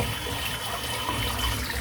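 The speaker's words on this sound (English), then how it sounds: "So I'm just going to empty the sink out again." A bathroom sink full of water and shaved hair drains out, a steady rushing, gurgling flow of water running continuously at close range.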